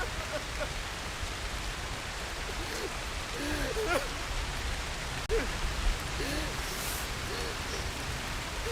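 Heavy rain falls in a steady, full hiss, with faint scattered sounds and brief clatters rising now and then over the downpour.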